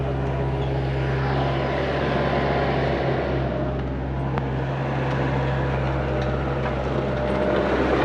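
A GCS grain scalper's 110-volt electric motor running while cleaning corn, a loud, steady mechanical drone with a rumbling low hum and a rushing grain texture throughout.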